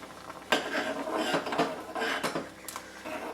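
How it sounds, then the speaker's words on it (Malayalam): Spoon scraping and clattering in a pan as masala oats are mixed with black pepper and spices, a few sharp clinks and shuffling scrapes at close range with no talking. "അപ്പോൾ ഇനി ഇതൊന്ന് മിക്സ് ചെയ്യുക."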